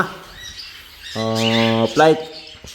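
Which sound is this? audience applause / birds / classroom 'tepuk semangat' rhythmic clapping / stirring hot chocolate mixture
birds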